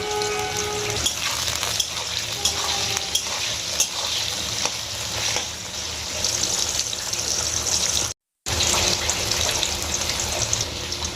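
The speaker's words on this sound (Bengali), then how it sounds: "এবার আমি বেগুনগুলো ভেজে নেবো" Eggplant (brinjal) pieces fry in oil in a home kitchen pan, giving a steady, dense sizzle with occasional stirring scrapes and a brief dropout near the end.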